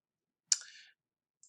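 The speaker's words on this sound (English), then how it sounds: "When we click on save right here" A computer mouse clicked once, a short sharp tick followed by a brief fading rattle, then a faint second click, quiet and isolated with no talking.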